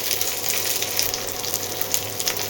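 Onion, cashews, raisins and chopped ginger fry in a pan for pulao, giving a steady, continuous crackling sizzle at close range with no talking.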